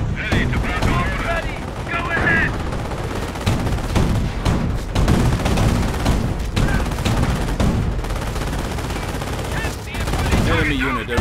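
Dense gunfire and machine-gun bursts from the World War II strategy game Company of Heroes (2006), a loud continuous fusillade of rapid overlapping shots with a few brief pauses, set during Operation Market Garden at Wolfheze.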